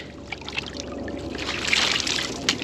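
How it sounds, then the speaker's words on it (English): Water is tipped into a gold pan while prospecting with a rain-gutter sluice, giving a soft, steady trickle and splash that swells slightly midway and ends with a brief louder slosh. "I can just dump the water in with my gold pan"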